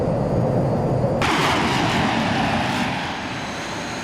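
A steady F-15 jet engine roar in Microsoft Flight Simulator X holds throughout, swelling into a broader, brighter rush partway through and then easing slightly, with no voices.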